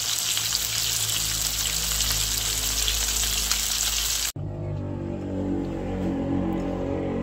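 Pompano fish fries in a pan with a dense, crackling sizzle for about four seconds, then an abrupt cut leaves a much quieter, softer frying hiss.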